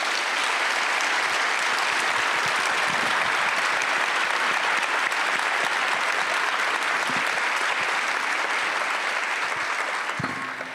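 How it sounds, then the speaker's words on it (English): Audience at a regional health meeting gives a long, even round of applause, dense and sustained for about ten seconds before it thins out at the end. "Please join me in just offering a round of applause of thanks."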